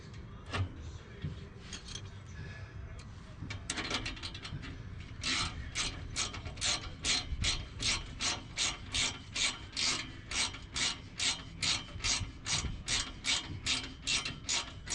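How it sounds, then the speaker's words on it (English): Ratchet wrench tightening exhaust bolts on a 1998 Ford F-150 during a Borla exhaust install, a close, steady run of rapid clicking strokes after some early fumbling. "When you don't have a set of ratcheting wrenches, it's well worth buying them."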